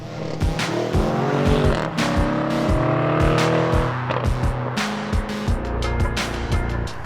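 A BMW M850i xDrive Convertible's V8 engine roars and revs, rising and falling through gear changes, loud and close with a deep rumbling tone.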